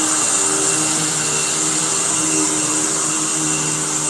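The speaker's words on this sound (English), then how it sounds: "I don't know how you guys hear me over the vacuum noise" A vacuum cleaner runs steadily at close range, a constant high whine over a broad airy roar with no change in pitch, alone with no voices.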